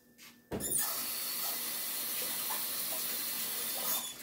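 A kitchen tap gushes water onto a spoon being rinsed at the sink, a steady close splash that starts abruptly and runs evenly without speech.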